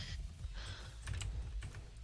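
Rapid, dense clatter of a computer keyboard with many keys struck together as fast as possible, close and continuous with sharper bursts near the end, no talking.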